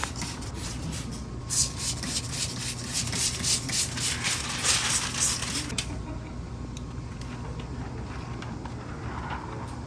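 A soft squeegee rubs and drags across wet window tint on a Porsche, a close, rasping swish in repeated strokes that fades to quieter handling sounds.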